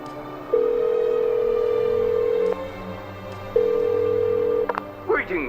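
Telephone ringing in the game Return to Ravenhearst: two long steady ring tones through a handset with a gap between, followed by a click and a brief chirping electronic tone.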